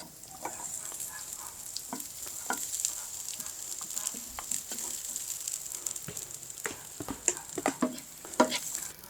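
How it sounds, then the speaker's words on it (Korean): Garlic frying in hot oil in a pan for bacon cream pasta gives a steady close sizzle with scattered pops and occasional stirring clicks throughout. "일단 불이 달궈지면은 마늘을 먼저 넣고요"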